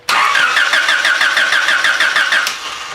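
A Honda engine with a newly replaced ignition coil cranks with a rhythmic, rapidly pulsing starter whir for about two seconds, then catches and settles into a steady idle, loud and close.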